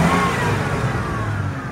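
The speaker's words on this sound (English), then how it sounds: "I'll rev it up for you." A 1996 Ford F-150 XL pickup with 97,000 miles revs loud and close, a steady, full engine roar that holds high and then eases slightly at the end.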